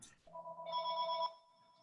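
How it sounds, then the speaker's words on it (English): A telephone rings once with a short electronic tone, a steady layered beep held for about a second before cutting off, loud and close in a quiet room. "Here, I'm going to terminate that phone."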